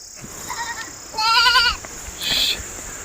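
Mixed herd of goats and sheep on a rocky Himalayan mountainside with Gaddi shepherds, several distinct bleats rising out of steady outdoor ambience, moderately close, with a couple of calls overlapping.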